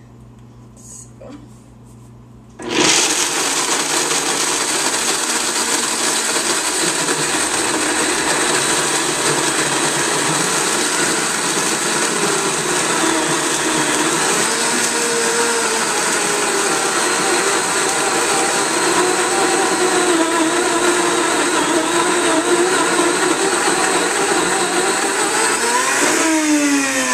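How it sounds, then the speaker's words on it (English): A blender grinding raw almonds into powder starts abruptly and runs loud and steady for over twenty seconds, a harsh whirring motor roar with a grainy rattle, then rises in pitch near the end. "So you'll see this will only take a second to blend into a powder."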